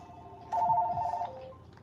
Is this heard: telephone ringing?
yes